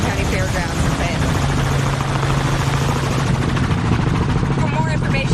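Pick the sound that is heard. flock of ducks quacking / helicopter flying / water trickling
helicopter flying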